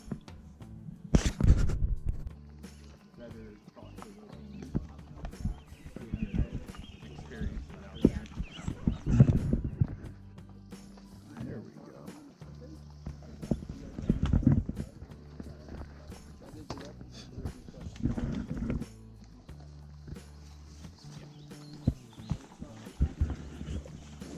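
Steady hoofbeats clip-clop at a walking pace, several horses moving close by, with scattered knocks and rustling around them.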